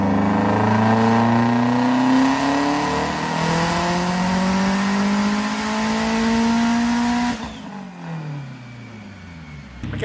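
A Subaru Legacy GT wagon engine revs hard and steadily on a dyno, pitch climbing through a long pull. It then drops off abruptly near the end, loud and close with no talking.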